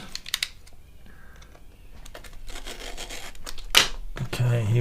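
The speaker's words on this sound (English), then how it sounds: "I'm going to need a blade to cut this." A blade slices through Apple AirTag four-pack packaging in short scratchy cuts and rustles, close and fairly quiet, ending in a sharper tearing burst.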